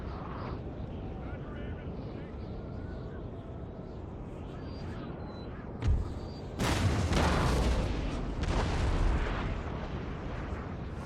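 Napoleonic-era cannon artillery booming in a Napoleon: Total War battle, a dense roaring rumble of distant fire with one sharp nearer blast and a louder swell of explosions afterward.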